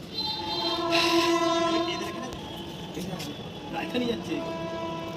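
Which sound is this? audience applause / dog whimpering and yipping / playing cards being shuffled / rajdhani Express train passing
rajdhani Express train passing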